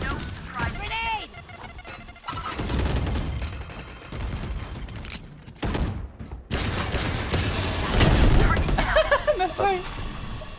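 Grenade blast and rapid bursts of gunfire in the tactical shooter Valorant, loud and close with several sharp volleys separated by short gaps, mixed with game effects and players talking over it.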